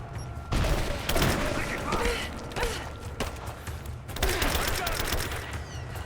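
Rapid bursts of gunfire crackle through a Rise of the Tomb Raider firefight, loud and close, with mechanical clanks and a few heavier booms mixed in, while voices shout beneath the shooting.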